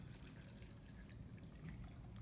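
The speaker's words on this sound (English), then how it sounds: "I will pour it to the graduated cylinder" Water being poured into a graduated cylinder, filled up to a 200 ml mark, giving a steady, close, continuous liquid pouring and trickling wash with no talk.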